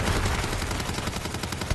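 Continuous loud automatic gunfire from a heavy-recoil weapon in a video game, a dense unbroken rattle of shots with no pauses.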